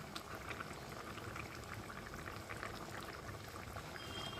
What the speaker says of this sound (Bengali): দিয়ে একটু ফুটতে সময় দেবো যেহেতু মাছগুলো দিয়েছি।